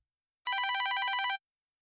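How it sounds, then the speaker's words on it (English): A telephone bell rings once in a single burst of bright, rapid trilling, about a second long, clear and alone against silence. "the phone rang."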